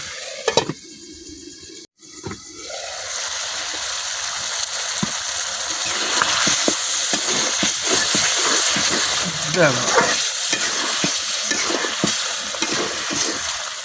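Chicken feet meat sautéed in a pan, a loud continuous sizzle with repeated scraping and stirring strokes, a voice talking over it at times.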